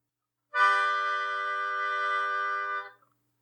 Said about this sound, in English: Is it what we call a major harmony?